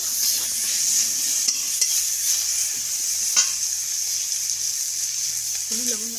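Chopped onion stirred in a frying pan with cumin seeds, cooking for a small-shrimp bhuna; a steady hiss of sizzling oil carries throughout, broken by a few scraping stirs of the spatula.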